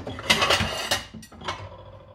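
A plate is picked up and set down in a kitchen with a few close ceramic clatters and scrapes, a sharper knock near the middle and a softer one after.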